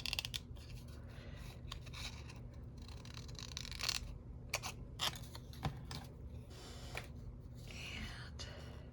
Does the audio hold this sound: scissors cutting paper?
yes